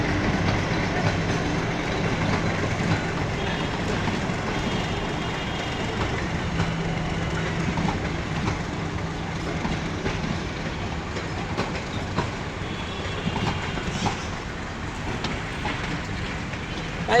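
An intercity express train enters Dinajpur railway station, rumbling steadily with rhythmic clatter of wheels on rails, a continuous heavy rolling noise that stays close and fairly loud throughout.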